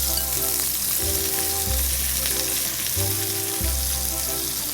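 Three half-sliced onions sizzle in hot oil for a fusion chicken curry, a steady crackling fry punctuated by regular rhythmic stirring strokes, close and continuous with no voices.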